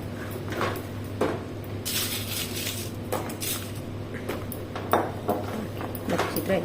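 Spoon stirring a sugar syrup mixture in a metal pan on a home stove, with repeated clinks and scrapes against the pan at an irregular rhythm, close and moderately loud.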